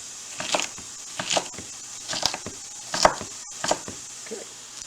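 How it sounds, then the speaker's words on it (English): A knife chops green pepper on a cutting board in a kitchen, half-inch pieces. About seven clusters of crisp chopping knocks come in an uneven rhythm, close and fairly quiet, with no talking. "go for a nice tight chop, about a half an inch actually,"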